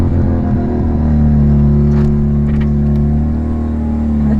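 A Mazda RX7 engine idles roughly, with a loud, steady low rumble and uneven, wavering tone held throughout, no voices over it.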